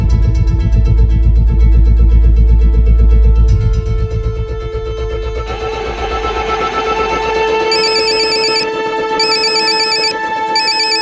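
An electronic telephone ringtone plays continuously over a low rumble, its melodic trilling pattern repeating and growing busier toward the end.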